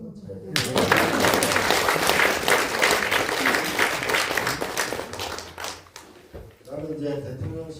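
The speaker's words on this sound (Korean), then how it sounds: "일단 박수를 한번 쳐야 돼요." Applause from a crowd at a New Year talk concert, dense sustained clapping of many hands swelling for about five seconds then fading, with someone speaking briefly at the end.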